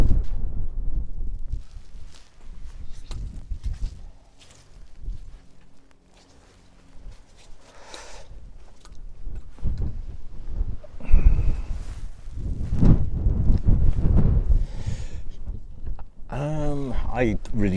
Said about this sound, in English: But that wind is still getting in.